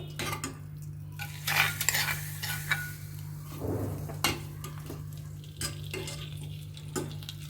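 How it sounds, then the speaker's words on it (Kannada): Tempering spices crackle and sizzle in hot oil for a Havyaka-style raw beetroot and curd dish, with a stirring spoon clinking against the pan in bursts throughout. "ನಂತರ ಒಗ್ಗರಣೆ ಹಾಕ್ತಾ ಇದ್ದೀನಿ"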